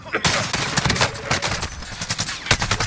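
Gunfire in Call of Duty Warzone: a dense run of rapid loud shots and impacts with a few heavier blasts, close and chaotic, with voices underneath.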